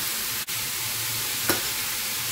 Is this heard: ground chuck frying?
yes